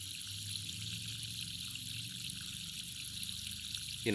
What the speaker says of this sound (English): We have a small, very slow flow of water.